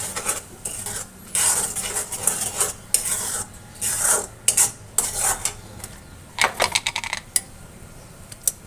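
Milk is stirred in a pan over a low flame, a spoon clinking and scraping against the metal in quick irregular bursts, close and fairly loud, with no talking.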